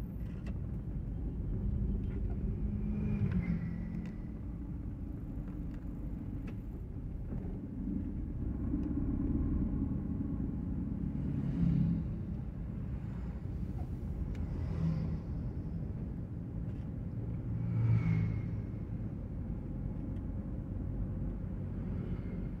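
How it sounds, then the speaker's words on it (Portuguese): A low, continuous rumble of São Paulo city traffic drones on for a long stretch, with engines and motorcycles swelling and fading at a distance. "Trânsito nessa hora não tem pra onde correr, não. É trânsito mesmo"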